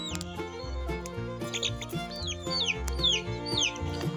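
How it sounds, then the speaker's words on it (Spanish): A crested chicken gives soft, repeated clucks in a quiet, close-up barnyard setting, the calls coming in short irregular bursts. "ahí hay un pollo copetón."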